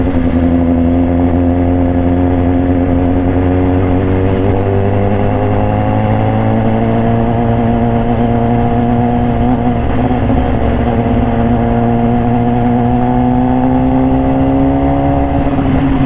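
A 2018 BMW S1000RR superbike with an Austin Racing exhaust, ridden on the road, gives off a loud, steady engine drone. The pitch rises gently and holds through a long cruise with no talking.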